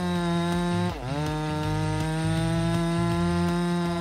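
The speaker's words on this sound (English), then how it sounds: "felling a giant cedar tree more than 30 meters high" Chainsaw felling a giant cedar tree over 30 meters high in a high canyon, running loud and close with a steady whine that briefly bogs down in the cut before revving back up.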